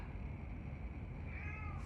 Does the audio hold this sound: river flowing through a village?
no